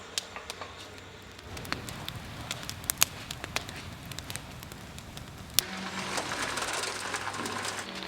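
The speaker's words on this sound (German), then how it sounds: "Über einem Feuer wird das Fass gebogen." Open fire crackling and popping beneath a 500-kilogram wooden barrel being bent in a cooperage, with sharp snaps scattered over a steady low roar that swells louder toward the end.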